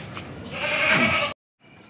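A purebred Faisalabadi Nagri goat at a goat market gives one loud, wavering bleat close by, lasting over a second before cutting off abruptly into quiet background noise.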